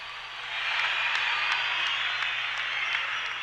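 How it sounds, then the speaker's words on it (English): A large crowd at a kickboxing event in Melbourne, Australia applauds, a steady wash of clapping that swells in and holds at a constant level, dense and somewhat distant. "give yourselves a big round of applause here in Melbourne"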